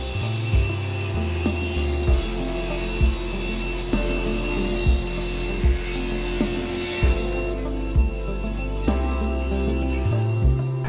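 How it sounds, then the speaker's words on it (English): Wooden boards being trimmed with a saw, a steady rhythmic back-and-forth rasp with regular strokes roughly every second, loud and close, with no talking. "Let's trim these boards up."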